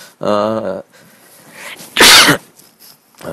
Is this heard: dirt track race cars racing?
no